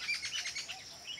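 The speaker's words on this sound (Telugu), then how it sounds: "ఆడ పక్షులు సౌండ్ చేసాయి." A flurry of thin, high bird chirps and tweets in a forest, a little distant and soft, repeating quickly without any talking.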